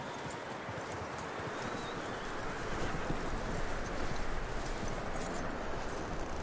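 Horse hooves clip-clop in a steady walking rhythm in the video game Red Dead Redemption 2, soft and somewhat distant, over a low rustling outdoor ambience.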